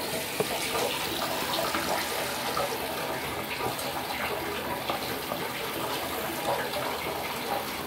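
Water gushes steadily from a tap into a filling bathtub, a broad, continuous rushing splash heard close up for several seconds without talk.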